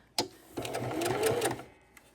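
A sewing machine stitches quilt appliqué in short bursts: a sharp start, a pause, then a longer run of rapid whirring stitches that stops, all close and fairly quiet.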